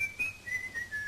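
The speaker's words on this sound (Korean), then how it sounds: "뒤에서 들리는 휘파람 소리." A person whistles a short, thin melody in a few brief, wavering notes, heard alone against quiet background hiss.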